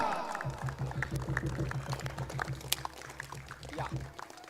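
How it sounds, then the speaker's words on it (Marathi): Loud, sustained crowd applause for the Utkarsh Kala Krida Mandal sports club at a cricket final match, steady dense clapping lasting several seconds before fading out. "उत्कर्ष कला क्रीडा मंडळासाठी एकदा जोरात टाळ्या होऊन जाऊ द्यात"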